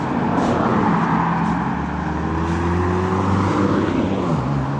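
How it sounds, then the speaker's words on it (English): A car passes on a road beside a forest walk near Chigwell Row, a steady loud engine and tyre roar that rises and shifts in pitch as it goes by, filling the whole clip. "It's not good with the traffic."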